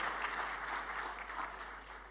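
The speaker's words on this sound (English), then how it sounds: "please give a big round of applause to our Dirjen here" Audience applause at an international conference on social impact assessment, following the introduction of a ministry's Director General of Land Acquisition; steady, moderately distant clapping from a crowd fills the whole stretch without letup.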